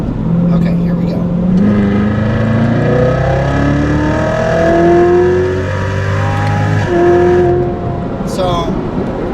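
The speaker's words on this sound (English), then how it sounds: "I'm going to go down to 40 miles an hour and show you what third gear does at 40 miles an hour." A C7 Chevrolet Corvette Z06 accelerates hard in third gear from about 40 mph, its engine note climbing steadily in pitch for several seconds as loud interior roar, then easing off near the end.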